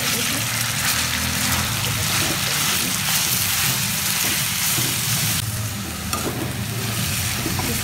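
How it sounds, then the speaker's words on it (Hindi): Qeema gola kababs made from minced meat fry in oil over a full flame, producing a dense, continuous loud sizzle with occasional stirring noises. "इसको मैं फुल फ्लेम पर फ्राई करूँगी"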